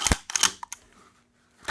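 A VZ-58 Sporter rifle trigger squeezed until it breaks, giving a few sharp mechanical clicks and snaps close to the microphone, separated by short quiet gaps.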